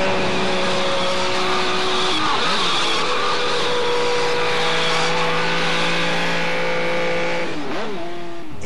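A car running at high speed near its limit on a road, a loud, continuous engine roar with shifting pitch as it changes revs, tires hissing beneath, heard up close throughout.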